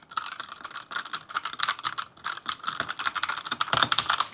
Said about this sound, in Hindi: अब बात करते हैं एक बार टाइपिंग एक्सपीरियंस अपना